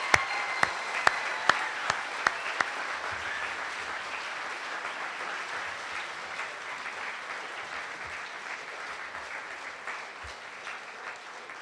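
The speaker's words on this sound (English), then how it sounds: "showing our appreciation with a resounding round of applause" Audience applause at a school candidate forum in an auditorium, a sustained round of steady clapping from a crowd lasting throughout, with a few sharp louder claps standing out at the start.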